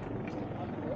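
A helicopter drones steadily in the mountains near the Amarnath cave route, a dense continuous rumble that fills the short clip.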